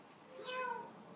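A single short, faint meow is voiced by a person imitating a cat, rising and falling over about half a second against a quiet room.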